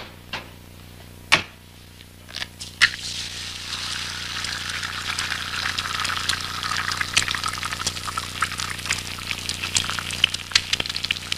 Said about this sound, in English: The egg fries very quickly,